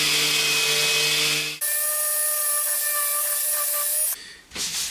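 A power tool strips the finish off a 1950s oak chair, whining loudly at one pitch, then switching to a higher steady tone before cutting off into brief rough noise.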